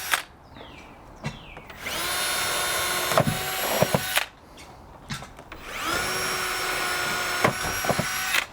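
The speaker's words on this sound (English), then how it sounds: "So now we are simply drilling a 5/8-inch hole into the brace." Power drill boring a 5/8-inch hole into a vinyl fence gate brace on a job site, two sustained whining runs of several seconds each, separated by brief clicks and handling noise.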